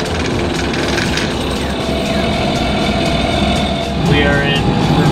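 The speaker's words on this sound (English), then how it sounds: "We are in reverse and we're going up to full throttle." A sailboat's engine pushed to full throttle in reverse while at anchor, a loud continuous low droning rumble that swells slightly near the end, with wind and water noise mixed in.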